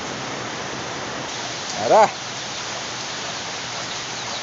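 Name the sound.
heavy rain falling outdoors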